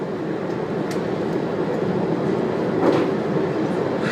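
A passenger train stands at a station platform on a picnic train excursion to Kiama, a loud steady rumble with brief hissing bursts and a swell near the end, without talking.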